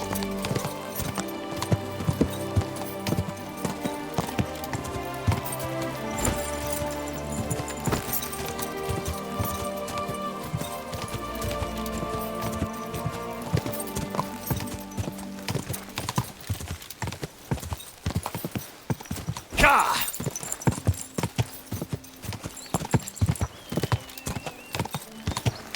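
Horse hooves clip-clop steadily on a path in Kingdom Come: Deliverance 2, a medieval role-playing game, under layered game music, with a brief whinny near the end.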